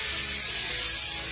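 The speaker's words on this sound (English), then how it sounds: "I'm spraying up high and letting it fall down." Hair sheen spray hisses in a steady continuous burst from an aerosol can held up high over short relaxed hair, loud and close.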